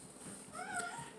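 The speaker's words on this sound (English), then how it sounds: "That's my cat meowing over there," A domestic cat meows once from across the room, a faint, drawn-out call heard at a distance behind a toy review.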